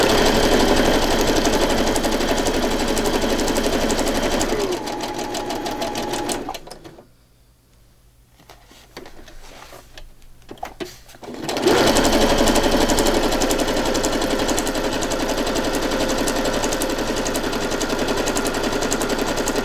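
A sewing machine stitches a wide zigzag through a paper journal page, a loud rapid mechanical chatter up close that pauses for a few seconds while the page is turned, then resumes steadily.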